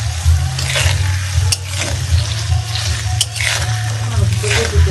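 Potato pieces fry in oil over a medium-low gas flame with a little turmeric, a steady close sizzle with a low hum underneath and a couple of sharp clinks.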